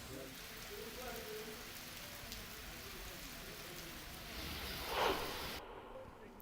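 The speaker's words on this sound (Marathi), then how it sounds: "धाराशिव जिल्ह्यामध्ये रात्रीपासून पावसाची कोसळधार सुरू आहे।" Heavy overnight rain in Dharashiv district, Maharashtra, a steady broadband hiss of downpour that persists throughout, with a brief louder splash or gust near the end.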